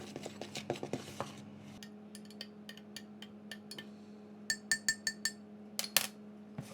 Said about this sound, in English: Give it all a good stirring to get things mixed in and make a little well in the centre